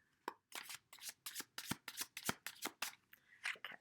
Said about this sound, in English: Okay, I just had to shuffle more.